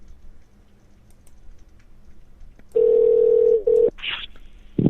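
A phone call rings out over a radio broadcast line: a loud, steady ringing tone sounds twice after quiet background murmur, followed by a brief higher burst.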